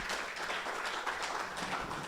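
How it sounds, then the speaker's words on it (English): Audience applause for the speakers at a health systems forum, a steady wash of many hands clapping at a moderate distance, continuous and fairly faint throughout. "A round of applause to all our speakers."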